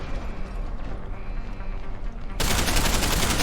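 Gunfire in Deus Ex: Human Revolution, a dense, rapid rattle of shots that runs continuously and jumps suddenly louder and harsher partway through.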